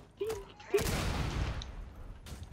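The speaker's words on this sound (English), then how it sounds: "I got a grenade launcher." A grenade launcher fires in a multiplayer shooter game. One sharp blast is followed by a broad, rumbling burst that fades over about two seconds. It comes close and loud, with game noise around it.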